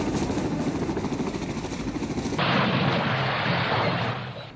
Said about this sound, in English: Some of the South Vietnamese Army flew their helicopters to the U.S. fleet off the coast, ditching their aircraft in the sea.